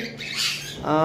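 Lutino cockatiels give a brief, close, harsh squawk, with a sharper rising call at the end.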